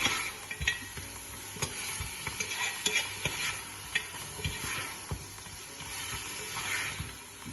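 Meat browning in a pan for haleem, a constant sizzle broken by regular stirring clicks and scrapes of a utensil, fairly close and with no talk.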